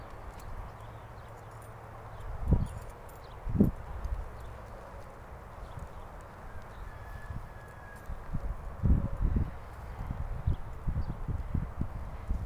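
A horse walks at an easy pace, its hooves clip-clopping in an uneven rhythm at moderate distance over a low, steady outdoor background, with a few clearer thuds standing out.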